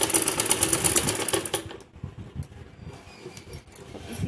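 A sewing machine stitches a kurti with rapid, rhythmic needle clatter that runs steadily for a moment, then stops abruptly, leaving quiet handling noises.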